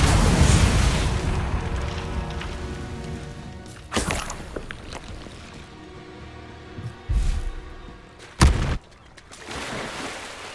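Confringo spell explosion in Hogwarts Legacy: a loud opening blast decays into rumble, followed by several sharp impact bursts spaced a few seconds apart, the strongest near the end, with no talking.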